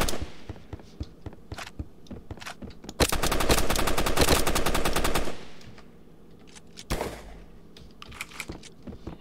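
Video game gunfire from Banana Shooter: scattered single shots and clicks, then a dense burst of rapid automatic fire lasting a couple of seconds, followed by a few more isolated shots, loud and close.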